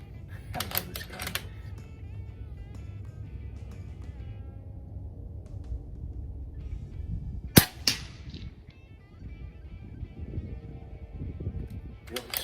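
Umarex Zelos airgun plinking targets at an outdoor range on a windy day: two sharp, loud cracks a few seconds apart stand out over a steady rush of wind noise.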